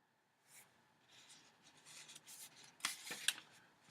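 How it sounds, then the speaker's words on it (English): Paper pages of a book being flipped and turned, a few soft papery rustles building to two sharper crisp flicks near the end, close and fairly quiet with no talking. "I get lost flipping through these pages"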